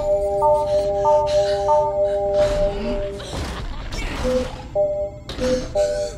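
A telephone rings in the LEGO Jurassic World video game, its electronic bell trilling in repeated bursts, broken up midway by crashing and smashing sounds before the ringing returns.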